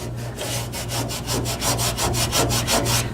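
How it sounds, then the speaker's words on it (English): Close, rhythmic rasping as a hand rubs back and forth over rusty sheet metal on a 1968 Camaro, about a dozen quick even strokes with no talking. "surface rust we get that you can rub off with your hand"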